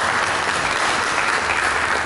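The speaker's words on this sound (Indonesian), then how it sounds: "Berikan tepuk tangan bagi Yesus." Church congregation applauding during a sermon, a dense, steady wash of many hands clapping together, loud and continuous throughout with no voices standing out.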